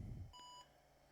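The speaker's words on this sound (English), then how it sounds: "gave us a single beep" One short, clear electronic beep from an IBM PS/2 65SX computer, a single clean tone over faint fan hiss after a brief low thump.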